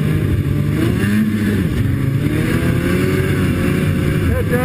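A Polaris Edge X ATV rumbles along on a ride down a hydro line, its engine droning steadily and close with shifting revs throughout.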